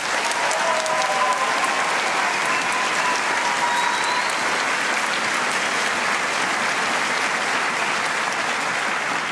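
Sustained, dense applause from a large graduation audience at a high school ceremony, steady and loud throughout with a faint crowd murmur underneath.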